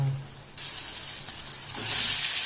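Quail eggs fry with chili in a hot pan, giving a loud, steady sizzle that starts abruptly after a brief quiet moment and swells slightly toward the end, with no talking.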